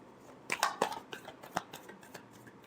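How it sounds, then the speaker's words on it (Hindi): A deck of tarot cards gets a final shuffle, a few close, quick papery riffles and flicks clustered together, then tapering off. "last shuffle"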